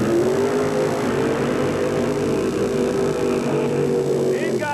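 A 1980 Toyota and a Jeep drag racing side by side down a strip, a continuous loud engine roar with steady droning and revving throughout, close and dense with no pauses.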